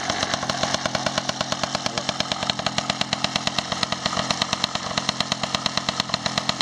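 A 1994 Magnum Racing moped's small two-stroke engine buzzes steadily with a rapid, even popping pulse throughout, loud and close, no talking.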